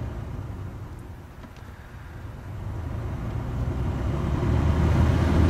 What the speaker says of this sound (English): Blower motor is activated with this switch here saying fan